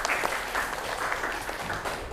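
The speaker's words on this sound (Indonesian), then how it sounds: "Kasih tepuk tangan untuk kita semua." Classroom students applauding together, a moderately loud patter of clapping that runs steadily for about two seconds with no voices over it.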